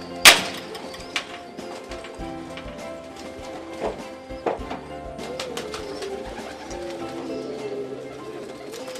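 Pigeons coo inside a loft housing about twenty birds, soft repeated calls mixed with scattered wing flaps and knocks, with no talk.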